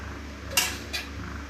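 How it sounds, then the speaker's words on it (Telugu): A cooking pan for stuffed eggplant fry is set on the stove with two distinct metallic clanks, the first louder, against a steady low kitchen hum. "ఇప్పుడు బాండి పెట్టుకొని కొద్దిగా ఆయిల్ వేసేసుకోవాలి"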